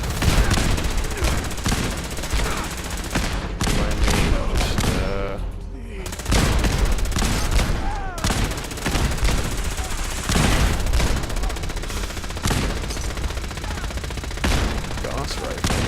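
Gauss rifle and other gunfire in a Fallout 4 battle at Bunker Hill, loud bursts and rapid volleys crackling densely throughout, with a brief lull midway and voices talking underneath.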